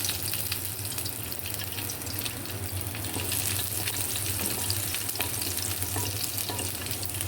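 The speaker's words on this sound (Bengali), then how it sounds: "আমি এবার তেল দিয়ে তার মধ্যে রসুন কুচি দিয়ে দিচ্ছি।" Chopped garlic fries in oil in a pan while pasta is cooked, giving a steady, even sizzle that stays moderately loud and continuous throughout, with no voices.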